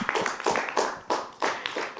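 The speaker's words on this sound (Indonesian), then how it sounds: "tepuk tangannya dulu" Children in a studio clap their hands in several bursts of quick, irregular claps, loud and close, with short pauses between bursts.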